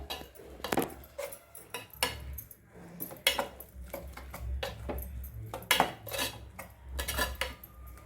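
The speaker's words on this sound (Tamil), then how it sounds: "இதை நல்லா வணக்கிட்டு கொஞ்சம் தீ கூட்டி வச்சுருங்க" Beetroot pachadi is stirred and sautéed in a pan with a metal utensil, producing irregular clinks and scrapes against the pan over soft background noise.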